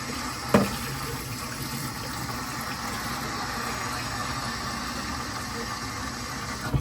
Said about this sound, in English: You're gonna put warm water in it